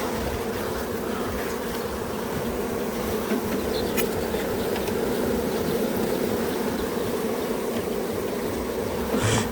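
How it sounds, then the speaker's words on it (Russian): Dense, steady buzzing of many honeybees close by, filling the whole stretch while a colony is moved from a six-frame into a twelve-frame hive and inspected. "Такое количество пчелы еще на стенке"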